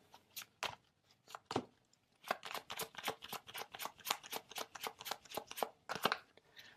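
Oracle cards are shuffled by hand in quick, soft riffling bursts, close and fairly quiet, with no voice over them.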